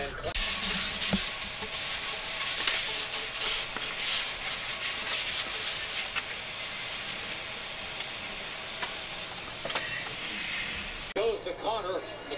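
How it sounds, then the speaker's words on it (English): Steady abrasive sanding hiss rasps continuously across a primed skateboard deck for several seconds, stopping abruptly near the end as a voice begins speaking. "So right now we're sanding it down"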